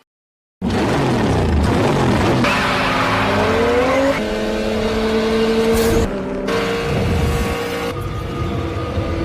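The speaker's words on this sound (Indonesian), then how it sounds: "Mereka mulai balapan untuk melewati lintasan kereta api." Cars race toward a railway crossing in a Fast & Furious film chase, bursting in after a brief silence with loud roaring engines, rising revs and sharp tire squeals, close and continuous.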